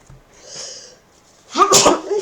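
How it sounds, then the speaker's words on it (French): A person sneezes once, loudly and close by, after a soft breathy intake and a quieter voiced sound; the sneeze bursts out forcefully near the end. "Atchoum, atchoum, atchoum, atchoum."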